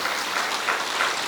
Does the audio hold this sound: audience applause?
yes